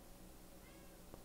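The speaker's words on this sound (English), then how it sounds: "my cat is meowing at me" A house cat meows faintly in a quiet room, a soft tonal mew heard low against background hiss, with a small click near the end.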